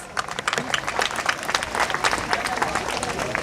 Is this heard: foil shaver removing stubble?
no